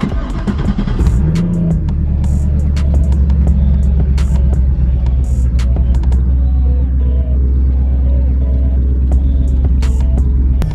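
A Chevrolet Corvette Z06 engine cranks, catches and settles into a loud, steady, throbbing idle, close up with a deep rumbling exhaust.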